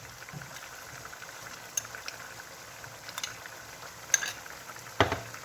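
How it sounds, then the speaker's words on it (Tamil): Squid curry being stirred in a pot after chili powder is added, a soft low scraping and bubbling simmer with a few faint utensil clinks against the pot, quiet and close with no talking. "மிளகாத்தூளை சேர்த்து இந்த மாதிரி நல்லா மிக்ஸ் பண்ணி மறுபடியும் மூடி வச்சுக்கொள்ளுங்க"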